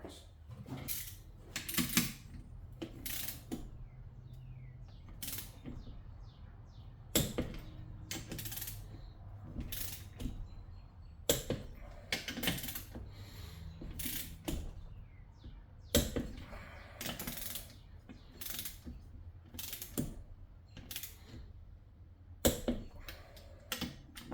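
Torque wrench snugging the large 25 foot-pound case bolts on a Volkswagen engine case during final assembly, giving a series of sharp metallic clicks and ratcheting taps spaced irregularly, close and fairly quiet, with no talking.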